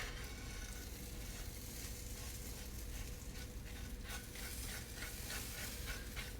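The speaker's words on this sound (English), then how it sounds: "Ooh, they're sizzling." Breadcrumbs sprinkled over a hot cassoulet sizzle steadily in a soft, continuous crackling hiss, close and fairly quiet with no one talking.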